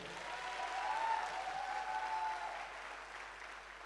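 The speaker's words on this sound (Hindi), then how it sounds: "मैं चाहता हूं गुरुजी के लिए एक दमदार ताली होनी चाहिए" A seminar audience breaks into steady applause for their guru, dense clapping swelling early then gradually tapering off, moderately distant and without talk.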